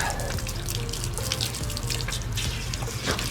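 Running water from a hose or tap rinses deep suds out of the thick coat of a giant dog, twice the size of a German Shepherd, during a wash; a steady close splashing flow continues throughout.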